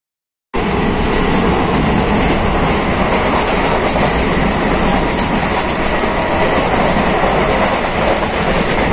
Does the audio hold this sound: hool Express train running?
yes